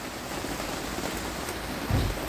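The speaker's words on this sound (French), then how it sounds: "Quand tu choisis l'Espagne pour avoir chaud et qu'il pleut à verse" Heavy rain pours down in Spain, a steady dense hiss of drops hitting surfaces with a brief low rumble near the end and no voices.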